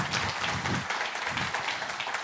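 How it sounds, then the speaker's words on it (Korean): Audience applause for the SK Broadband president at a tech conference keynote, a dense, steady wash of many hands clapping at moderate loudness, sustained through the whole stretch without voices. "여러분, 브로드밴드 사장님께 다시 한번 큰 박수를 부탁드리겠습니다."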